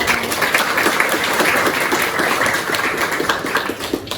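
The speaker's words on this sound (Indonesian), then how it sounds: "Mari kita beri aplaus untuk" Steady, loud clapping from a classroom audience, dense and continuous for several seconds before easing slightly at the end, with no voices over it.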